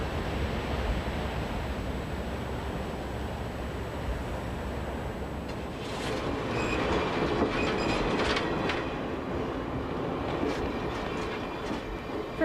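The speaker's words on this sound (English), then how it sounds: "From Gaspé, we took the overnight train to North America's jewel of historic treasures, Quebec City." An overnight passenger train running from Gaspé to Quebec City gives a steady, continuous rumble of rolling wagons, with faint rhythmic clicking and some higher metallic rattles appearing partway through, heard alone without voices.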